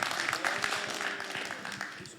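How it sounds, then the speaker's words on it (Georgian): Audience applause for the fighters at a press conference, a moderate crowd clapping steadily and fairly close, gradually fading toward the end, with some voices mixed in. "გავაცილოთ აპლოდისმენტებით ბიჭები."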